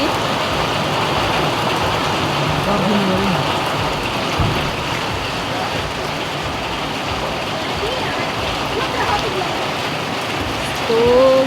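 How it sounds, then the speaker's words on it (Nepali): Steady rain pours down at a hilltop viewpoint near Gangtok in Sikkim, a dense continuous hiss of falling water filling the whole stretch, with faint voices and a brief louder gust near the end. "घुम्नु आएको पानी पर्यो"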